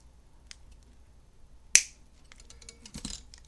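A single sharp metallic snip of a small cutter cutting a bead chain for fly tying, close and clear, followed by faint handling clicks in a quiet room.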